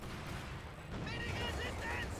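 MG42 machine gun fire from Company of Heroes 2 rips across a battlefield at Soviet conscripts, a steady dense burst mixed with distant battle noise while a commentator talks over it.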